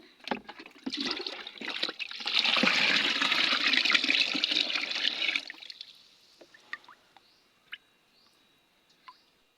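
Banana-peel-soaked water pours steadily onto rose plants for several seconds, a broad splashing rush that swells midway, then stops, leaving a few faint drips and small knocks.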